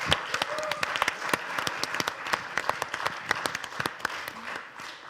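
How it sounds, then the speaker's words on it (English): Applause breaks out at a Nordic sommelier championship, a modest audience clapping with distinct, sharp individual claps standing out over a softer background patter. "you deserve a big round of applause"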